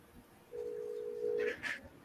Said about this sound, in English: Yep, it's ringing now.